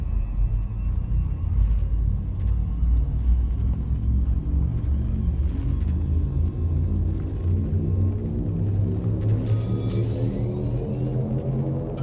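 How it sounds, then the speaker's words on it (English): Frameshift drive charging aboard a ship in the Elite Dangerous video game, a deep steady rumble that holds loud and unbroken, with a low tone slowly rising beneath it. "Frameshift drive charging."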